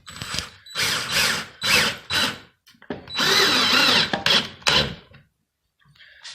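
Power drill driving screws while mounting a Karran undermount quartz sink to a laminated wood countertop, with several bursts of whirring, ratcheting drive separated by short pauses, close and loud.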